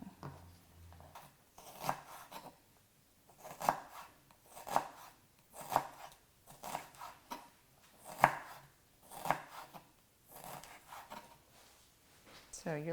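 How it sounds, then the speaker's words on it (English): Kitchen knife julienning ginger into very thin shreds on a cutting board, with a steady series of crisp chopping strikes, some spaced about a second apart, close and moderately loud, alongside faint background noise. "what I'll do is I'll julienne it really thin."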